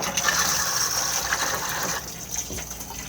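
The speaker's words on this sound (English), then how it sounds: "Push the flush on top." Toilet flush in the washroom of an Elddis Majestic 115 caravan, a loud close gush of rushing water that eases after about two seconds into quieter trickling and dripping.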